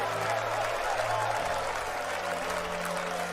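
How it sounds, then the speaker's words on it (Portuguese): Church congregation clapping hands during worship, a dense, even wash of clapping at moderate level with a low hum running beneath it. "Batendo palmas"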